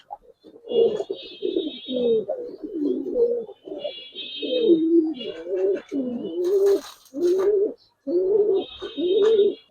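Giribaz pigeons coo repeatedly and close by in steady low bubbling phrases with almost no pause between them, alongside a few brief higher chirps.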